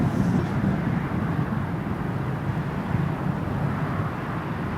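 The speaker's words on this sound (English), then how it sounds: "let's pan to the ATR. There it is. Aer Lingus ATR." Steady broadband roar of an Aer Lingus ATR turboprop airliner at an airport on a windy day, heard from a distance as a continuous rumbling drone with wind noise, no talking.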